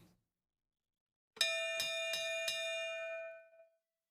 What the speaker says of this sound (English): A bell, once silenced by Mother Nature, is ringing once again